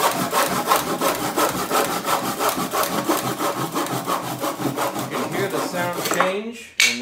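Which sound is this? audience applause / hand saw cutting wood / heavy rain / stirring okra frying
hand saw cutting wood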